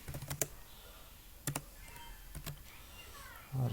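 Keys tapped on a computer keyboard in short clustered bursts spread across several seconds, each cluster a quick run of crisp clicks, with a heavier clack near the end, close and fairly quiet.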